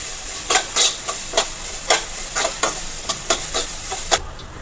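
A spoonful of semolina roasting in ghee for a sago beetroot payasam: a low, even sizzle punctuated by about a dozen sharp, rhythmic scraping strokes of a spoon against the pan, close and fairly loud.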